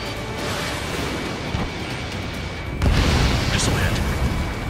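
Missile strike explosion in the combat flight game Ace Combat 7 during a pipeline destruction mission, a sudden deep boom rising over steady jet and battle rumble, with voices talking around it.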